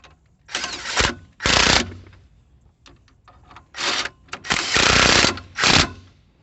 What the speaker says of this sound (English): But I have an impact, so I'm going to use that to make things more faster.